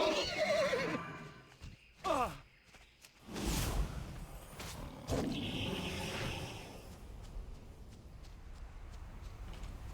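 A horse in World of WarCraft lets out a loud whinny, then snorts and whooshing movement sounds follow, with a second neigh and soft hoof and rustle noises trailing off.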